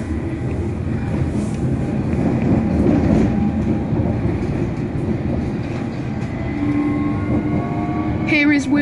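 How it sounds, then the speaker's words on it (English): A train pulls into a station near Acton on the Heathrow route, a loud sustained rumble of wheels and motors that swells and eases, with a short squeal of brakes near the end. "Here's Will's train coming in"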